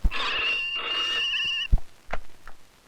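Telephone ringing in a comedy scene, a bright trilling ring lasting about a second and a half, followed by a few knocks and thumps.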